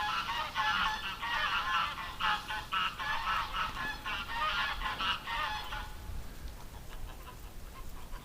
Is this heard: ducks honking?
yes